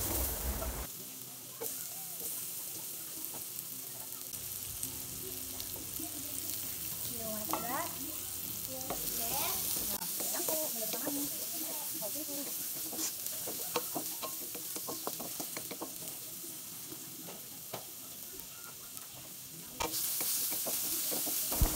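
Ginger, garlic and onion sauté in a pan with a quiet, continuous sizzle and occasional stirring clinks, faint and close, while a voice talks intermittently over it.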